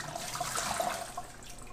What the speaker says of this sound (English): Now, after 8 minutes, we turn off the water